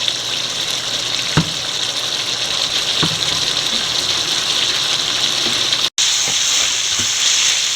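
Rabbit meat frying in a pan for a Kerala-style ularthiyathu, with a loud continuous sizzle and occasional knocks and scrapes from stirring, close up and without voices.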